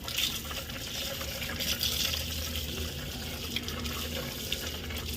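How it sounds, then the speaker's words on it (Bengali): Tap water runs into a sink as someone washes their hands and face at home, a steady close splashing stream with a few brighter splashes scattered through it and no one speaking. "আর এদিকে হাত মুখ ধুয়ে নিচ্ছে"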